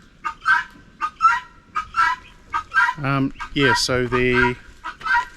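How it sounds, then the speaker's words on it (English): Noisy guinea fowl calling outdoors, a few loud harsh honking, cackling bursts rising over the latter half, with a person talking nearby throughout. "These are our noisy guinea fowl."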